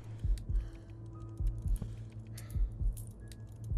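Lockpick pin shifting in Splinter Cell: Pandora Tomorrow, heard as a run of soft, close clicks and light metallic ticks in an irregular rhythm over a low hum, with no voices.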